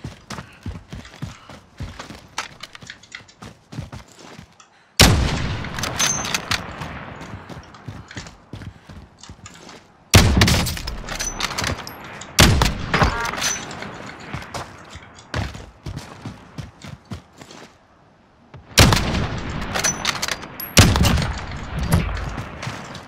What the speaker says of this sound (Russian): Ух ты, по мне стрелял.